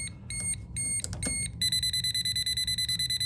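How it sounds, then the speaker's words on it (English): A Klein non-contact voltage tester beeps near live wires, first in uneven bursts and then in a fast, steady chain of high electronic beeps, loud and close. "So you hear that tone? That means there's power."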